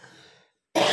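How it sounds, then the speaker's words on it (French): A single short cough, with a brief pause before a sharp, loud throat-clearing burst at the end. "Pardon, je tousse encore."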